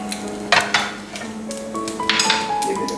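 Meat pieces stirred around an oiled pan over medium heat: a spoon knocks and scrapes against the pan in a few sharp clinks, over a faint sizzle, close and clear.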